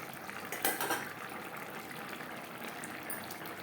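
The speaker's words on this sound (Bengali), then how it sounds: "গরম মশলা পাউডার গ্রেভির সাথে বেশ ভালো করে মিক্সড করে দেব" A spoon scrapes and clinks in a pan as garam masala powder is stirred into simmering fish curry gravy for Vola fish curry, with soft sizzling underneath and a brighter clink near the start.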